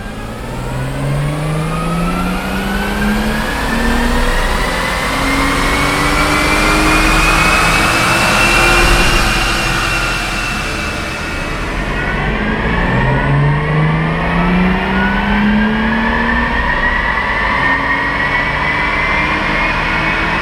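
A BMW 435i F32 on a dyno pull in 4th gear, engine climbing steadily from about 2,500 rpm to redline in a loud, rising roar, then a second rising sweep after a brief drop, with no talking.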